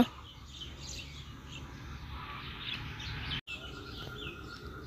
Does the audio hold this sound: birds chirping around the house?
yes